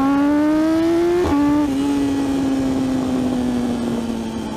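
A 2016 BMW S1000RR motorcycle accelerates hard, its loud, close engine note climbing in pitch, shifting gear briefly, then holding a high, strained whine.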